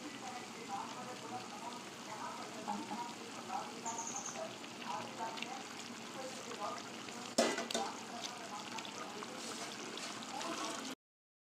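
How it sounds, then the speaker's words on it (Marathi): Pieces of patodi vadi, a gram-flour roll, dropped into a simmering spicy curry, with soft bubbling and stirring throughout, a brief clatter of a pan partway through, and faint talk in the background. "त्याच्याने पातोळ्याच्या वड्या टाकूया."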